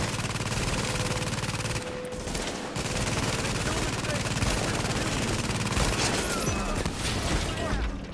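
Gunfire in the third-person shooter Tom Clancy's The Division on PS4, rapid automatic bursts rattling continuously under game music and effects.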